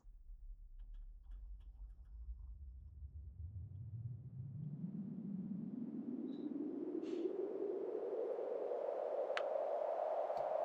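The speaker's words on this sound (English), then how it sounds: "Let's play some white noise and listen around the frequency range." Band-pass filtered white noise whose hissing band sweeps steadily upward in pitch, a continuous, even rush with a few faint clicks and no voices.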